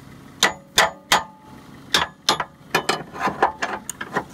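Rusty snow plow angle parts grind and clank as they are forced together, giving a series of sharp metallic clacks and ratcheting knocks, spaced irregularly and fairly close.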